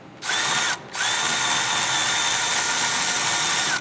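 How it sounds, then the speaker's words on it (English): Ratchet or power tool work on the exhaust flange bolts behind the brake rotor of a Porsche GT4 RS / Spyder, a loud continuous whirring buzz that stops once briefly and then runs steadily, close up. "I prefer to use the 1/4 inch ratchet for this"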